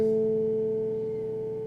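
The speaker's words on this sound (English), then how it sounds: "That sound is all the strings ringing." All six strings of an electric guitar ring together after the instrument is shaken, a sustained steady hum of overlapping tones that slowly fades over under two seconds, with no talking.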